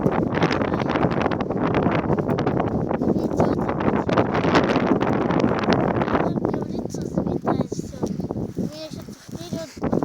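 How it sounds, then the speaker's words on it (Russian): Strong winter wind buffets the microphone in a steady, roaring rumble that fills the whole stretch, easing slightly toward the end, while a voice talks underneath. "Извиняюсь, если ветер сильный. Можете не услышать."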